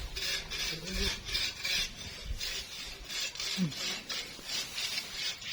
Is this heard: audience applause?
no